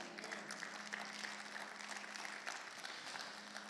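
Faint, distant applause from a church congregation clapping for the Lord during a Spanish sermon: a steady wash of scattered claps over a low hum, with no talking.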